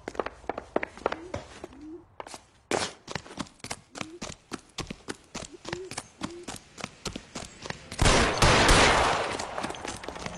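Gunfire in a film scene, a rapid volley of loud sharp shots in quick succession, with short shouts between them and a burst of noise near the end.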